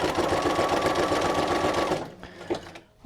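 A sewing machine runs a zigzag stitch across a strip of sewn paper-and-fabric collage scraps, a fast steady whirring hum that stops after about two seconds, followed by a few small handling clicks.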